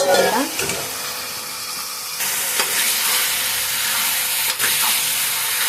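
Mutton curry fries loudly in a pan while it is stirred and mixed, producing a steady dense hiss and sizzle with a few scraping strokes, close and continuous.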